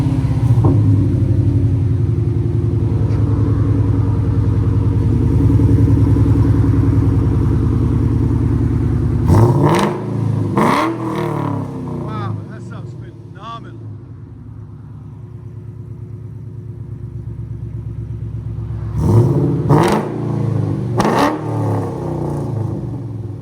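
A 2006 Ford Mustang GT 4.6 liter V8 with long tube headers and a full exhaust system drones loud and close, then barks out two sharp bursts of quick revs separated by a quieter idle.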